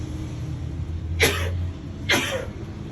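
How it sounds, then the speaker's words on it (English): Two coughs come close together, a short one and then another a second later, over a low steady background hum. "I haven't been coughing until just now."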